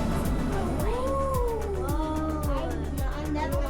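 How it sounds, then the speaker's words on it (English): Sea lions calling inside the Oregon sea lion cave, a dense chorus of wavering, bleating barks and moans echoing over steady roaring background noise, loud and continuous. "it's the sound of the sea lions."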